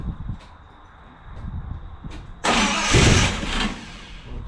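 A car engine cranks in a few short, faint bursts, then fires and catches with a sudden loud roar that swells briefly and settles into a steady run nearby.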